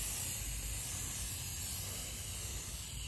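A can of metallic spray paint hisses onto airsoft parts in a soft, continuous spray, faint and steady with a slight fade toward the end, no talking.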